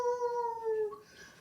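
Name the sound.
person imitating a wolf howl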